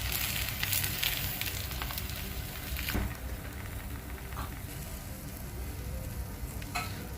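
Beaten egg poured over a dosa on a hot pan, giving a steady close sizzle and crackle with a few sharper pops along the way.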